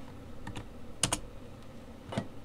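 A few quick keystrokes on a laptop computer keyboard, soft close clicks in two short bursts and a lone tap, against a quiet room background.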